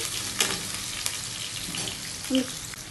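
Curry leaves crackle and sizzle in hot tempering oil for gongura pachadi, a close, steady frying hiss with small pops throughout.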